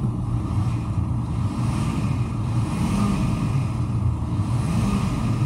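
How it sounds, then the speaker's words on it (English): A 2009 Ford F-350 utility bed crane truck with 62,000 miles idling and revving, a loud steady low engine rumble with gentle swells in pitch throughout. "I'll rev it up for you so you can hear it."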